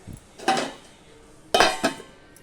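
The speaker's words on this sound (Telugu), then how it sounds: "మూత పెడదాం" Two metallic clanks come from a lid set onto a cooking pot while rava kesari is being made, each a short ringing clatter close by, with a quiet pause between them.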